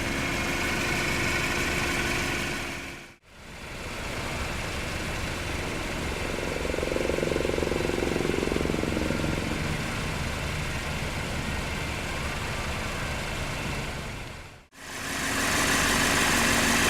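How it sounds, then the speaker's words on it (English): A 2018 Cadillac ATS with a 2.0-liter turbocharged four-cylinder engine idles at a low, steady hum, fairly quiet and even, interrupted by two brief cutouts. "Powering the ATS here is the mainstream engine. It's a 2-liter turbocharged 4-cylinder"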